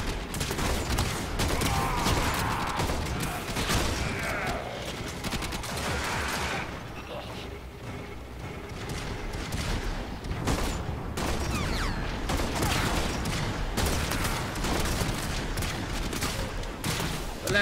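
Weapon fire in the video game Warframe: dense, continuous bursts of rapid shots and booming impacts fill the whole stretch, loud and close, with sparse game sounds mixed in.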